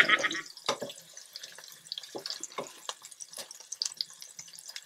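Pork sautéing in bagoong shrimp paste for Bicol Express, a quiet sizzle with scattered pops and clicks from stirring, heard close and at low volume.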